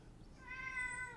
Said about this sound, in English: And that's the cat. Can you hear Bella?